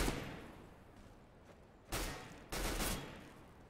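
Counter-Strike gunfire on the dust2 map during a 1v1 between a Negev and an AWP, heard as a short burst followed by two sharp, faint shots.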